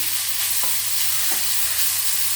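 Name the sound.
grated radish being stir-fried in a pan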